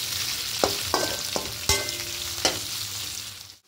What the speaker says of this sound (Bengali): এবার ঢ্যাঁড়সগুলো দিয়ে হালকা লাল লাল করে একটু ভেজে নেব।